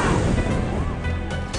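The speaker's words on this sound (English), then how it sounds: "Throw a grenade in there." A heavy, booming grenade blast in the action game inFamous 2 Festival of Blood, a loud low rumble that fills the short moment and tails off with crashing debris.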